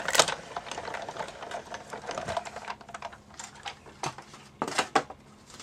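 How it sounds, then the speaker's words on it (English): A die cutting machine rolls a card through, making a steady mechanical whirring and grinding with clattering knocks, louder near the start and toward the end. "So once again, we just bring our die cutting machine in, put that down very carefully and run it through."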